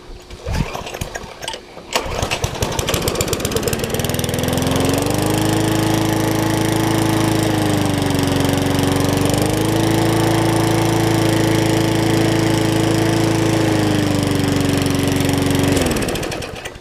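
A cold push lawn mower engine catches after a few rough sputters and settles into a loud, steady running drone, its pitch dipping and rising slightly as it holds speed.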